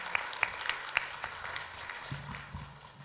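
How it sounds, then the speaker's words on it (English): Audience applause for three presenters at the close of a conference session on customs and the digital economy, with a few sharp individual claps at first, then a soft, thinning patter. "Please give a big applause to our three presenters."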